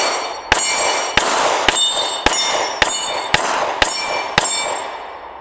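Bullets from an M&P CORE pistol striking steel targets outdoors, nine evenly spaced sharp metallic clangs, each ringing briefly, loud and distinct, with no talking.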